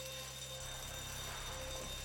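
Bank alarm in GTA 5, a continuous electronic ringing tone held steadily throughout at low level over a faint background hum, with no voices.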